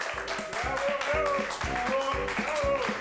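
A television studio audience applauds in a dense burst to welcome a guest, with cheers and a shouted bravo among rhythmic hand claps and voices over it.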